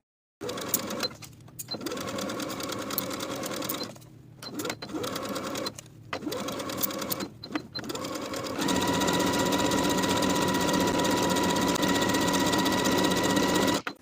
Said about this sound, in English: Sew the cuff into the armhole with a 1/2 inch seam allowance and finish the raw edges together.